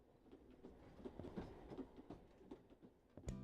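Train rolling past right beside a clinic building in a sim video game, rhythmic clickety-clack of wheels over the rails, fairly soft and steady, ending with a heavier low thump.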